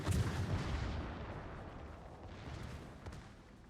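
Naval gunfire from a warship in a World of Warships match: a heavy low boom at the start rolls into a long rumbling decay, with a faint second thump later, alone without talk.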